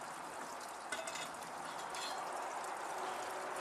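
A steady simmering hiss of water bubbling in a pot on a folding firebox camp stove, with faint bubbling and light crackle, continuous and close, with no talking.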